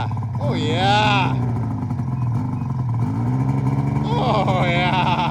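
A homemade snow vehicle's engine runs steadily at close range, its rumble rising and falling in pitch as it revs, with a brief dip in the middle before climbing again.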